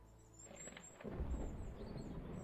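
Thunder rolls in as a sound effect during a tabletop role-playing session: a low rumble builds, then breaks into a loud, sustained crash with a hiss of rain, alone without talk.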